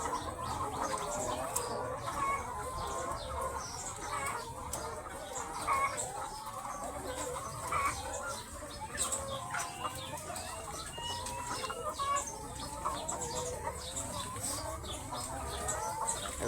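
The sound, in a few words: chickens clucking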